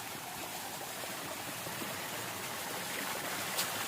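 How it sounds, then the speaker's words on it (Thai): Water pouring over the rocks of Lan Rak waterfall in Nakhon Nayok, Thailand, a steady broadband rush that stays close and constant with no voices. "ฟังเสียงน้ำตกผ่อนคลายบำบัดธรรมชาติบำบัด"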